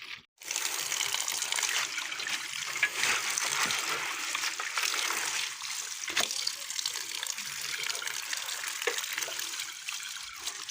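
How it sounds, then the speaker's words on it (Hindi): Running tap water gushes steadily into a sink while leafy greens are washed to rinse away sand and grit, a continuous close, loud wash that lasts throughout with no voices. "अच्छी तरह से सब्ज़ी को धो लेना है ताकि बिल्कुल भी इसमें रेत वगैरह ना रहे।"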